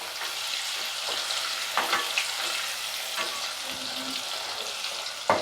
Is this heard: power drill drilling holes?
no